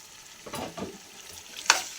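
Chicken pieces drop into hot tempering oil for dum biryani, giving a couple of short sizzling bursts with stirring scrapes and a sharp clink near the end, close and moderately loud.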